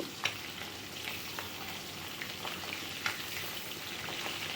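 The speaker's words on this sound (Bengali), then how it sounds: "এখানে মাছগুলোকে কিন্তু আমি খুব বেশি কড়া করে ভাজছি না হালকা করেই ভেজে নেওয়া হচ্ছে" Fish sizzling and spitting in hot mustard oil, a steady close crackle with occasional sharper pops, no voices.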